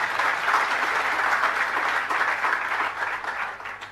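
Audience at a Jain religious sermon breaking into sustained applause, a broad, even patter of many hands clapping throughout, slightly fading at the end.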